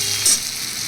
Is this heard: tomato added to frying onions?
yes